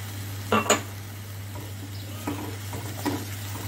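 Milk and sugar being stirred in a pan after roasting: a few sharp scrapes of a spoon against metal over a soft frying hiss and a constant low hum.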